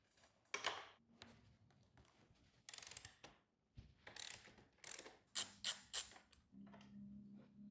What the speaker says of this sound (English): I can just use my 27mm socket on my reversible torque wrench